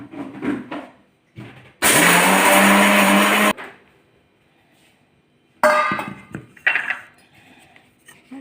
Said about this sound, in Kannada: ಇದನ್ನು ಮಿಕ್ಸಿಗೆ ಹಾಕ್ಕೊಂಡು ಬರ್ತೀನಿ